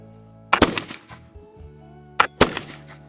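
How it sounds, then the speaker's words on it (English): A Kibler Southern Mountain flintlock-style rifle loaded with 40 grains of homemade black powder fires with a hang fire: a loud, sharp crack, a pause, then a second pair of close, booming reports. "A little bit of a hang fire, but it didn't move."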